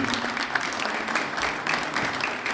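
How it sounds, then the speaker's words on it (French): An audience applauds steadily at an award ceremony in Brussels, a dense, even wash of many hands clapping at once that stays level without swelling or fading. "on peut l'applaudir"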